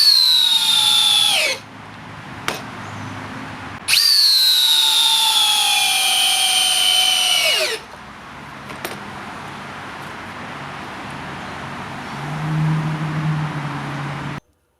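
A HiKOKI 36V hammer drill drives 100mm and 200mm batten screws in two loud, high motor whines. The first lasts about a second and a half and the second about four seconds, each dropping in pitch as the screw bites, with quiet pauses and clicks between.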